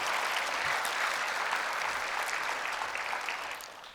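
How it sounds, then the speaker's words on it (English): A conference audience applauds at an opening keynote: a full, even wash of clapping from a large room that holds steady, then tapers off near the end. "So I think another round of applause for Lily there."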